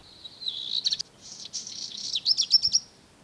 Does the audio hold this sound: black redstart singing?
yes